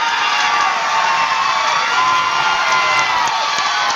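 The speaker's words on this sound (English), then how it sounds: "the crowd is super into this fight" A crowd at a fight event cheers and whoops loudly, a dense continuous roar of many voices with shrill shouts, close and sustained throughout.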